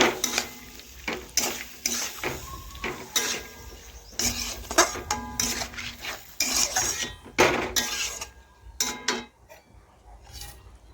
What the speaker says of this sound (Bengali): নাড়াচাড়া করে ভালোভাবে মিশিয়ে নেব।